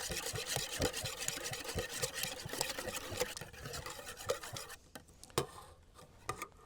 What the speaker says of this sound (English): I'm going to take my whisk and beat these together so that they incorporate well